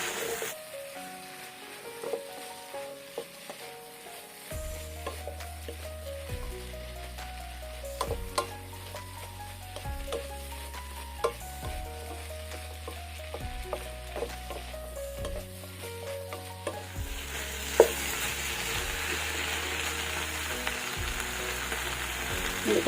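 Shredded cabbage stir-fried and tossed in a pan, a steady crackling sizzle with occasional utensil clicks, faint under background music.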